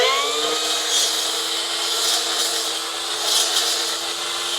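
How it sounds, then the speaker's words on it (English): A newly bought battery-powered string trimmer cuts weeds close to the ground, giving a steady high-pitched whine with a constant motor tone that stays fairly loud and even throughout, with no voices. "See if we can get that cleared up with the weed whacker we just got."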